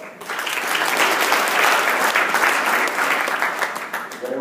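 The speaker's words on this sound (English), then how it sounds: "give yourself another round of applause." Sustained audience applause fills a hall at a motivational corporate event for Northwestern Mutual, dense, steady clapping at close range throughout, with no voices on top.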